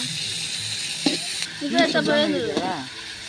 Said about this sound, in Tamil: பட்டை போட்டாச்சு இலை போட்டாச்சு பிரியாணி மசாலா இலை அப்புறம் டொமேட்டோ கொஞ்சம் போட்டுக்கணும் அப்படியே நல்லா வதக்குங்க